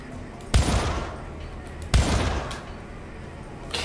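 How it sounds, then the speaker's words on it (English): Sniper rifle fire in the video game Syndicate: three loud, sharp shots spaced over a few seconds, each with a booming crack and a lingering tail. "God, this sniper rifle is the best thing."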